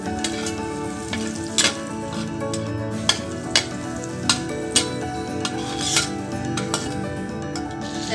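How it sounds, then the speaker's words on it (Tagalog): Butter melting and sizzling in a pan for creamy carbonara, a steady close frying hiss punctuated by sharp clinks of a utensil against the pan, with no talk. "then, after mamelt ng ating butter"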